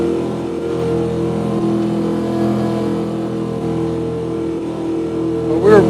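Chevrolet Corvette ZR-1 engine held near redline, a loud, steady mid-pitched roar with a sharp rise in revs at the very end, no one talking.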